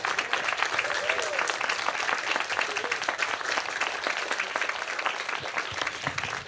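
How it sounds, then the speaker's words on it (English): Town hall audience at an environmental meeting gives a grateful round of applause for Tom Torlakson, continuous crowd clapping at moderate distance, fairly even in strength from start to finish. "if we could just give Tom Torlakson a grateful round of applause"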